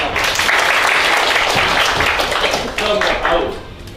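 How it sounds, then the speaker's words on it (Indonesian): High school students clap their hands in a classroom, a loud, dense burst of clapping that thins near the end, mixed with voices. "Tepuk tangan, pakai tepuk tangan."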